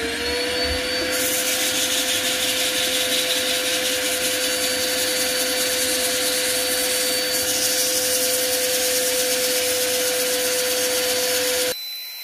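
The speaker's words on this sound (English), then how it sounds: "Time for a bit of sanding. I'm starting at 80 grit." Ash wood bowl sanded at 80 grit, likely on a lathe, giving a steady, loud abrasive rub and whine that runs unbroken for about twelve seconds before cutting off.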